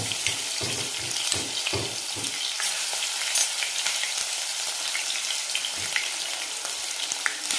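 Ginger-garlic paste and bay leaf hitting hot oil, a loud close sizzle with bubbling spatter, some stirring thumps early on, then a steady frying hiss with no voices.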